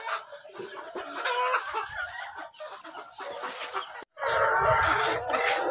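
Chickens clucking in a busy farmyard flock just after feeding, steady overlapping clucks and calls throughout with a brief break near the end, moderately close.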